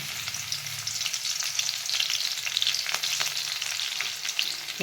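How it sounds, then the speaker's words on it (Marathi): Crushed garlic fries in hot oil in a kadhai, giving a dense, continuous close-up sizzle with a few stirring clicks and no talk. "छान तेल तापत आलं आहे आपलं. आता ठेचलेलं लसूण आपल्याला टाकून घ्यायचं आहे."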